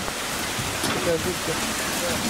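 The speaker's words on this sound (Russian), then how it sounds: "Нюра прячется от дождика, не хочет купаться" Steady rain falls outdoors at a bear enclosure, a dense even hiss of drops on surfaces close around, with a few faint tonal animal or voice sounds over it.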